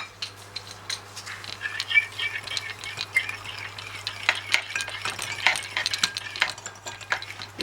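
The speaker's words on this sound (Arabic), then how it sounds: "هنقلب بقى التوابل" Dry shawarma spices (salt, pepper, garlic powder, cinnamon, coriander, paprika) are stirred in a bowl, giving a close run of light, irregular scraping and tapping clicks over a low steady hum.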